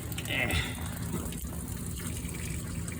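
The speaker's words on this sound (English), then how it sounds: "So I've just been filling it up over and over until the water comes out the top" Water runs and gushes into the old radiator tank of a 1946 Chevy truck that sat unused for over 30 years, a steady low pour at close range with a faint voice beneath it.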